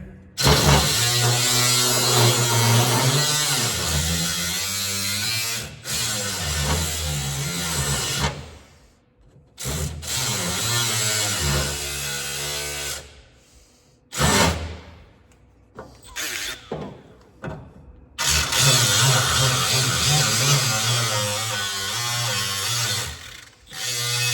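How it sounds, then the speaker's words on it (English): Electric sander working over stripped Scrambler motorcycle parts being prepped for paint and powder coat, a loud steady buzzing whine that runs in long bursts, stopping briefly several times before starting up again. "Now we're just gonna clean it up with the sander."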